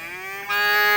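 A red cow with a white blaze moos once at a livestock market, a loud, sustained, harmonic-rich call that rises and swells halfway through.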